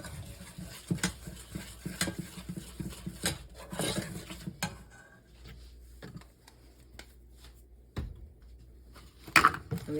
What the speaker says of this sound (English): I'm gonna stir that in.